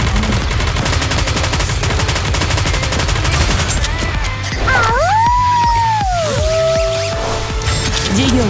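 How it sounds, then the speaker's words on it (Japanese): Bombardment and heavy gunfire roar continuously in the video game Nikke, a dense barrage of rapid shots and blasts, with sweeping synthetic tones gliding over the battle noise near the end. "前方に向け爆撃開始"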